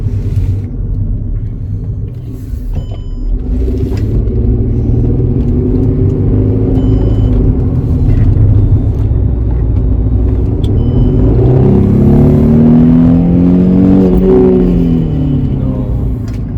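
A car drives a short loop down a street and back, its engine rumbling steadily throughout with a rising rev near the end, close and loud.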